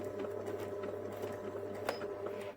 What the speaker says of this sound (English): pop your needle down into your fabric and do those reverse stitches